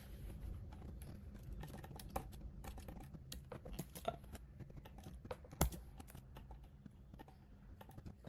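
A password is typed on a computer keyboard, a quiet run of irregular soft key clicks with one sharper, louder keystroke near the end, no voices.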